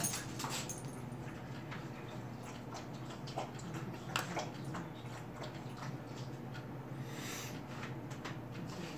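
A dog runs across an indoor floor, its claws ticking in quick, uneven patters. Faint whimpers are mixed in, and the sound is moderately quiet and close.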